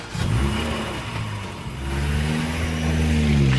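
A car engine revs up, drops briefly, then climbs again into a steady strong drone, loud and close with rising and falling pitch and no voices.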